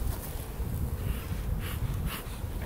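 Honey bees buzzing around an open beehive during an inspection, a soft, steady, diffuse hum with some rustling and breathy noise, fairly quiet and without talking.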